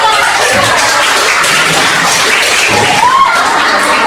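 Hands clapping in a classroom, a dense, steady wash of many pairs of hands that fills the room loudly and evenly from start to finish, with no clear break.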